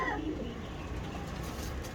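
Breeding pigeons coo nearby as a continuous, soft, low murmur with no other sound.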